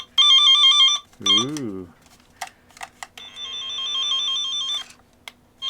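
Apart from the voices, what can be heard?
signal tracer test tone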